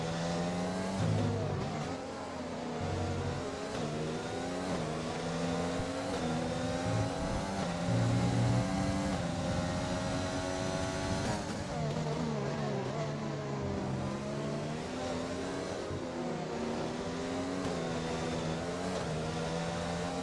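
F2 race car engines in an Xbox racing game at the Chinese Grand Prix, high revving whines rising and falling continuously for twenty seconds, with tyres squealing under hard cornering and no voices.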